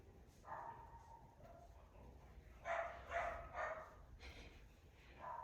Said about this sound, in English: Excited dogs.